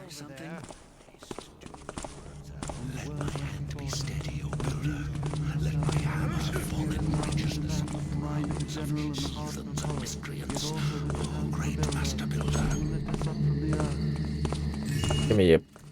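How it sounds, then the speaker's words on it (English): Footsteps in a ghost-themed video game, a steady run of steps moving through a room over a low ambient game bed, with speech-like murmurs through much of it. "I'm hearing a lot of footsteps and not a lot going on."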